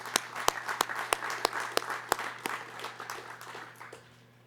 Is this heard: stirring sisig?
no